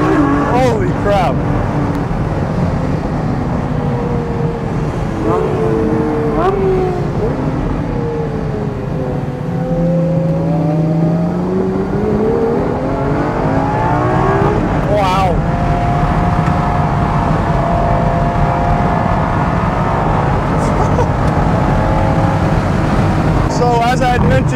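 A Ferrari LaFerrari hybrid hypercar drives an out lap on a racetrack, its engine droning steadily with rising and falling revs and shifting tones throughout, loud and continuous, with voices speaking at points over the engine.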